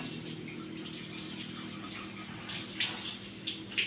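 Tap water runs steadily while raw shrimp are rinsed by hand in a kitchen sink, a continuous close wash with a few brief splashy spikes and no talk.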